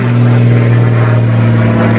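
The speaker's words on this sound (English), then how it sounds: "That airplane go." An airplane passing overhead above a rural property hit by a tornado, heard as a loud, steady engine drone that holds for the whole stretch with no talking.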